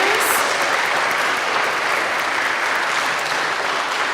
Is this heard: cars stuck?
no